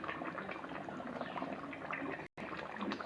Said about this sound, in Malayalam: ഗൈസ്, നമ്മൾ ഇത്തിരി പച്ച വെളിച്ചെണ്ണ ഒഴിക്കാം.